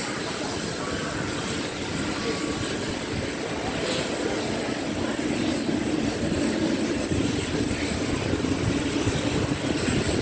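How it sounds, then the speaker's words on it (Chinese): A China Airlines Boeing 747 airliner taxis at Taoyuan airport, its engines giving a steady, broad roar heard from an observation deck, constant in loudness throughout with a thin high whine above. "我的中华航空波音747进场喽"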